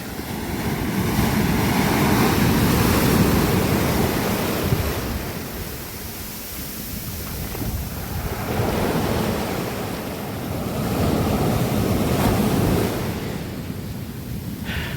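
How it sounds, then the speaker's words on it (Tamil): Sea waves rolling onto a beach where a giant 60-foot tree has washed ashore, a continuous broad surf roar swelling and easing in slow surges, with wind buffeting the microphone. "சரியாக கடல் ஓடுது இப்போ"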